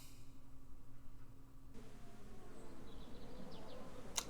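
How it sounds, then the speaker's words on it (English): A buzzing fly from The Walking Dead video game drones softly and steadily in a quiet scene, with faint low ambience underneath and a sharp click at the very end. "This buzzing fly sound is pretty creepy."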